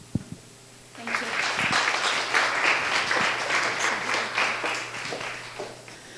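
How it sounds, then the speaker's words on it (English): An audience breaks into sustained applause at a talk on depression, starting abruptly after a few scattered claps and holding steady, dense clapping for about five seconds, fairly close and loud. "We applaud you, Alex, and commend you for your mission to help other people"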